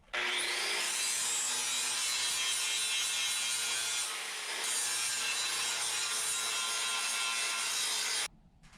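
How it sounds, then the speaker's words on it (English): An angle grinder grinds down metal welds on a tornado and hurricane shelter bunker, a loud continuous abrasive whine that dips briefly midway and then carries on steadily until it cuts off near the end. "I hadn't really played with the grinding. That takes the metal off quick"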